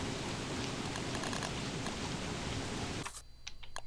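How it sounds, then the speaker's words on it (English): Steady, dense hiss of heavy rain in the game Don't Starve Together fills the first three seconds, then cuts off abruptly, leaving a few soft taps and clicks. "Stop raining already, game. Just stop raining."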